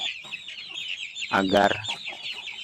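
Free-range village chickens cluck around a farmyard, with a dense, continuous chatter of clucks and one louder, closer squawk in the middle, while a voice speaks briefly in the background.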